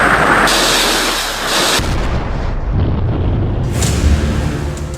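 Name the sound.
anti-ship missile fired from fast boat hitting target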